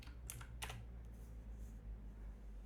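Typing on a computer keyboard in a code editor, a quick burst of a few soft keystrokes near the start followed by fainter taps over a low steady hum, quiet and close.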